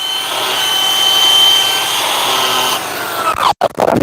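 A flap wheel on a power tool grinds steadily inside a king pin bushing on a Chevrolet Kodiak truck's front axle, a loud continuous whir. It ends in abrupt scraping and stopping sounds.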